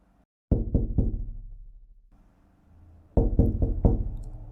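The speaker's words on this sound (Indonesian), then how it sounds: "suara ketukan pelan di kaca. Bukan yang keras, bukan yang agresif, tapi lebih kayak isyarat sopan." Soft knocking on window glass: a cluster of three quick raps, a pause with a low hum, then four more even taps, close and clear with no voices.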